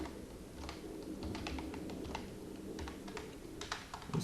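Rapid typing on a computer keyboard while writing Arduino code, a steady run of light clicks at close range over a low background hum, with no talk.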